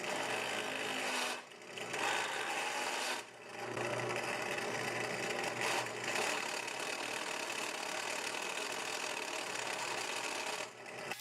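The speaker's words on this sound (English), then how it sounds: "countersink the two side holes." A drill fitted with a countersink bit bores into the side holes of a skateboard or longboard deck wall mount, whining in sustained bursts broken by a few brief pauses between passes.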